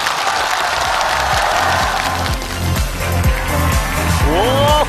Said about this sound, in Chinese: 让我们掌声有请他们！